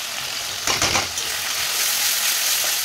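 Spices, including turmeric, meat masala and chilli powder, are stirred as they fry in a pan, making a loud, continuous hiss. A short burst of scraping comes partway through, and no one speaks.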